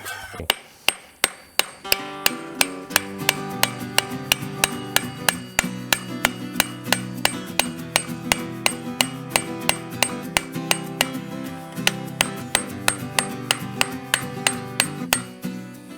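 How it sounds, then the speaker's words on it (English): Regular metallic hammer strikes peening a scythe blade edge on an anvil, dozens of evenly paced blows with a bright clanging tone, close and loud. "it's just slow and deliberate hammer blows on the edge to drive out the edge and work harden"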